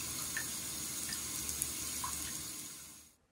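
Water trickles steadily from a leaking bathtub faucet diverter under a shower, a soft continuous hiss of flow with faint drips, close by and alone, stopping abruptly at the end.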